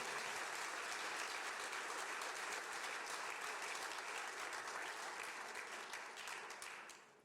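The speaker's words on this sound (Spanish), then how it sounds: "Dele un aplauso fuerte al Señor." A church congregation claps strongly during a sermon, a thick, even wash of applause holding steady for about seven seconds before fading slightly at the close.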